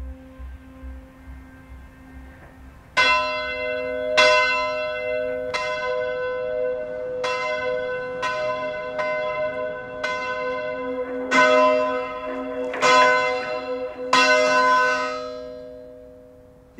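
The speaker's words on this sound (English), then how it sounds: "Tower Captain Paul Norman still rings the bell today, just as his predecessors did 350 years ago." A deep London church bell tolls about ten times at a slow, uneven pace, each strike ringing out and overlapping the last, loud and resonant.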